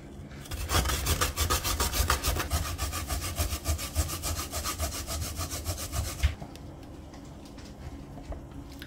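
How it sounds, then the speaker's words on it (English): A coconut is grated by hand on a metal grater in a kitchen, making dense, rapid rasping strokes that stay loud and steady for about six seconds before stopping abruptly, leaving a quiet room tone. "you're gonna grate it so with the grater coconut hold it by the end there and you begin"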